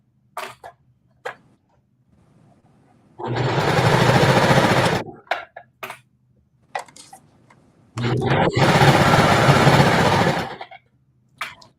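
A sewing machine stitching a seam on a beginner Roxanne dress, two loud steady bursts of rapid motor whirring and needle chatter of several seconds each, separated by quieter handling noises and brief sounds of a person nearby.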